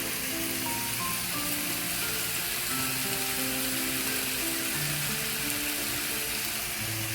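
Minced chicken with onion and tomato sauce fries in a pan, making a dense, even, close sizzle that holds steady throughout, with no voices over it.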